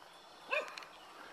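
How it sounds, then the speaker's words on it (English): A single short bark from a beagle or hound dog carries from a distance outdoors, faint and brief over quiet ambient noise. "Oh, we got another barking dog."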